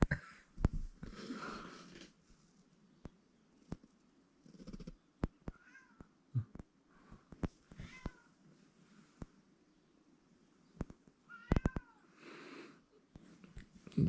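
A cat meows repeatedly in short, separate cries against a quiet room, along with occasional sharp knocks and thumps as it bangs on a door.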